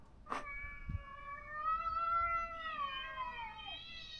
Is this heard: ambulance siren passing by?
no